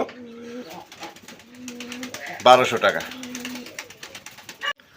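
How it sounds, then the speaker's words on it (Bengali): Local Golla pigeons coo softly, a low steady hum repeated in several rounds under a man's nearby speech, with a brief louder burst of mixed noise in the middle. "এটি আমাদের দেশীয় গোল্লা কবুতর"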